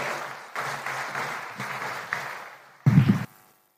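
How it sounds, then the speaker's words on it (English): Audience applause welcomes the President of the Republic of Kenya at a live official event, a steady crowd clapping for about three seconds before a louder burst near the end, then silence. "help me to usher in, with clapping, the President of the Republic of Kenya, Dr. William Ruto"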